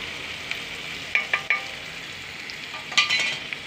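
Stuffed ivy gourd curry being stir-fried in a pan, a low steady sizzle broken by several sharp scrapes and clinks of the spoon against the pan; no one talks.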